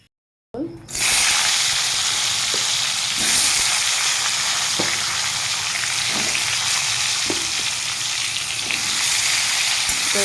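Pieces of parwal (pointed gourd) sizzle loudly in hot mustard oil, a dense steady hiss with a few brief clinks and stirring taps throughout.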